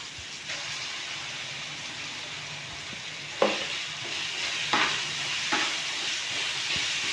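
Turmeric and ginger garlic paste frying in a pan while being stirred, a steady loud sizzle throughout with a few sharp scraping strokes of the spoon.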